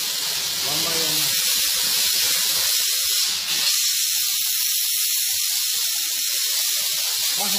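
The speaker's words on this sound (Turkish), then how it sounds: "Buharı tuttuğumuz zaman seyredin, bak yaklaşıyor." A steam car-wash machine sprays a continuous loud hiss of steam onto a car seat, steady and close, with someone talking briefly at the start.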